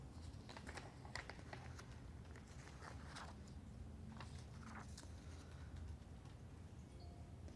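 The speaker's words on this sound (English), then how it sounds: "Nope, still typing." Steady typing on a computer keyboard, with dense, continuous key clicks running throughout at a low level over a faint background hum, and no voices.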